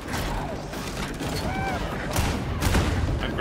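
Weapon reload clicks and mechanical clatter in Warhammer 40k Darktide sound among steady gunfire and combat noise, with a brief metallic ring near the middle and voices in the mix.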